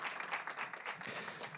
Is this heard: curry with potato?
no